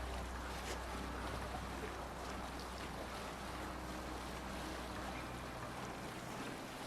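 A Viking longship sails over the sea in Assassin's Creed Valhalla, with a steady faint wash of waves and wind noise rushing continuously beneath.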